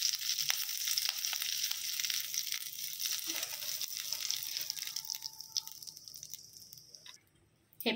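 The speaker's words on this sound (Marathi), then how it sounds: "कढीपत्ता याला आपण भाजून घ्यायचं आहे थोडंसं" Fresh curry leaves roast in a hot pan until crisp, making a soft crackling sizzle with scattered drips and pops that thins out and nearly stops toward the end.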